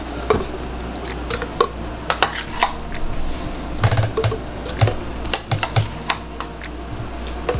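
Frozen strawberries, peaches and mangoes drop into a large rinsed HadinEEon blender jar, a loud scatter of sharp knocks and rattles, irregular and close, with no talk.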